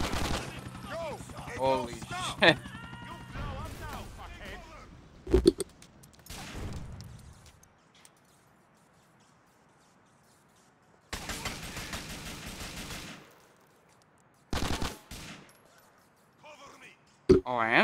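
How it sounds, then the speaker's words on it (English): Sniper fire and gunfights in GTA 4: The Ballad of Gay Tony, several sharp bursts of shots separated by quiet gaps, with a person talking and exclaiming between and over them. "I am still getting sniped at"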